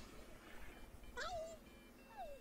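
A cat in a taxi in The Sims 4 lets out two faint, short meows, the first rising then falling and the second a soft descending mew, over a quiet game background.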